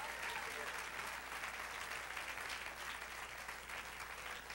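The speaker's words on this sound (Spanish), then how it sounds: "Dar un aplauso al Señor." Church congregation applauding during a sermon, a steady wash of clapping heard faintly at a distance with voices mixed in.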